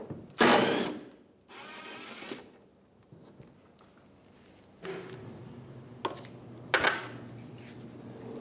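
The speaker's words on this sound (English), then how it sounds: "So we're going to use a 10mm socket and take that bolt out." A 10mm socket ratchet backs out a bumper bolt on a 2015-2019 Hyundai Sonata, giving a few short bursts of close clicking separated by quiet pauses, with no talking.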